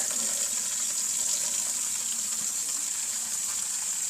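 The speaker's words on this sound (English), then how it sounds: "very carefully, we are going to pour this water in" Water poured from a container into a homemade paper brick press outdoors in below-freezing weather, a steady gushing, splashing flow that holds evenly throughout, close and moderately loud, with no talking.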